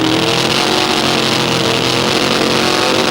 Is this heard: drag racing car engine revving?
yes